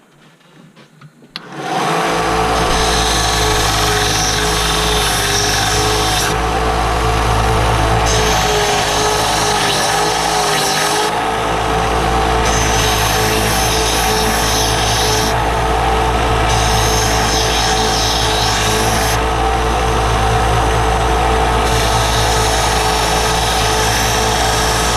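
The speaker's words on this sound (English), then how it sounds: "Let's do some more sanding on this." A lightsaber part is sanded with a power tool: a loud, steady motorized whir that starts abruptly after a brief quiet moment and runs continuously, with the pitch and grinding texture shifting slightly as the part is worked.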